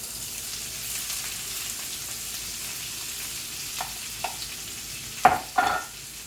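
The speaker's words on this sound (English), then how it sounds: "I'm going to put the chicken sausage in the oil. The oil will become flavored from the peppers and the onions." Chicken sausage is added to hot oil flavored with peppers and onions, giving a quiet, steady sizzle in a pan, then a few louder bursts of crackling and stirring toward the end.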